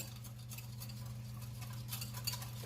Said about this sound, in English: And I'm going to keep stirring.